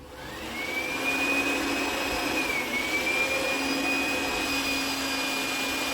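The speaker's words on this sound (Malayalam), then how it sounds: "ഒരു ബ്ലോവർ വെച്ച് എയർ അടിക്കുകയാണ്" Air blower forcing air through the silencer of a new-model Swift Dzire during a 1 lakh km service, a steady loud whooshing roar with a sustained high whine, rising in over the first second and holding unbroken.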